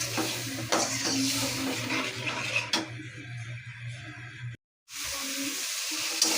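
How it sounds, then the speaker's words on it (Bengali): A potato, vegetable-stalk and fish curry stir-fried in a pan, with sizzling, repeated clanks and scrapes of a utensil against the pot, a brief silent gap, then more frying noise nearby. "আমি এখন ভালোভাবে কষাই নিব।"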